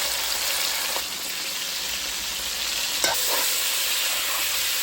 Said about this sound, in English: So I just let it fry for a little bit. I'm gonna stir it.